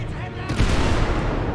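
Explosions and rapid gunfire fill the GTA 5 video game scene, a dense rumbling barrage with a sharper boom partway through, loud and continuous.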